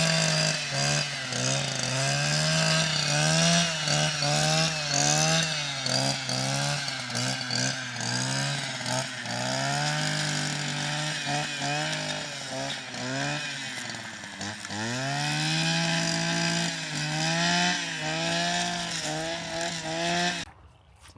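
Close string trimmer clearing growth along a farm creek, its small engine whining loudly and continuously, with repeated revs rising and dipping in pitch before it abruptly cuts out at the very end.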